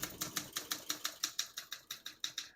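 Typing on a 1971 Olympia SM9 portable typewriter, a quiet, steady series of crisp key strikes clacking at an even pace, about five per second, heard close with no voices.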